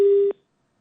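A single steady telephone busy tone after a dropped call sounds loud and close, then cuts off abruptly into silence.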